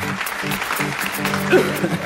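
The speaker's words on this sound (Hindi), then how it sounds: "बहुत सारी तालियां।" Studio audience applauding on an Eid al-Adha special of a family game show, a dense steady clatter of clapping running the whole stretch with a swell partway through.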